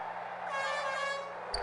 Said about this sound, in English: This has an air horn during free throws.